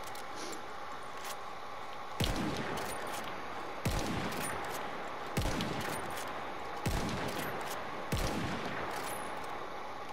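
Sniper rifle fire in Battlefield 1, five loud evenly spaced shots about one and a half seconds apart over continuous battle noise from the game.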